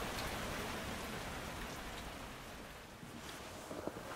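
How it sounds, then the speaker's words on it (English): Steady heavy rain falls in the Trossachs in autumn, a dense continuous hiss on surfaces that holds evenly throughout, with a few louder drips near the end. "the rain hasn't stopped at all. In fact, it's got heavier."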